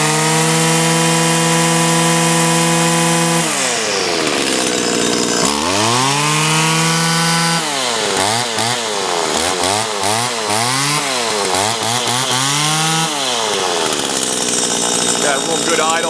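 A Stihl FS85 string trimmer's small two-stroke engine, close and loud, idling steadily, then revved repeatedly up and down in quick bursts before settling back to idle.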